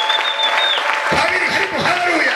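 A church congregation in Bugesera claps together during a lively worship service, a full, close burst of applause with a voice and tonal sounds running over it.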